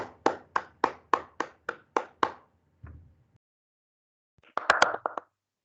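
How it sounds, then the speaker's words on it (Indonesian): A small classroom group claps in a short run of about nine sharp, evenly spaced claps, a faint thump follows, then a brief burst of a few more scattered claps after a pause; close and dry, no talk. "Kita beri aplaus untuk kelompok 5."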